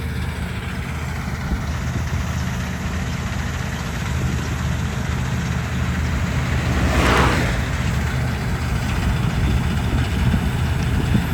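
A tractor engine runs steadily nearby, a constant low heavy rumble, with a short rushing swell of noise midway.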